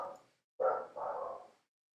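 Two close, hoarse barks from a dog indoors at night, the first short and the second drawn out, after a fading earlier bark, with silence in between.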